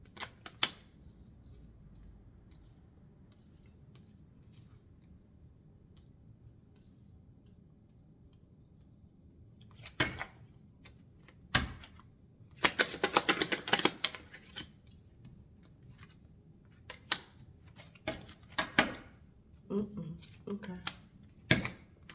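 Quick papery riffling bursts of tarot cards being shuffled, close by, in several short clusters after a quiet stretch, with faint background murmur.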